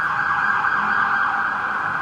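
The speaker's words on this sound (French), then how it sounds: "ça, c'était une ambulance." A loud ambulance siren wails continuously and close by on a street in Bangkok, Thailand, with a steady piercing tone and no other sounds.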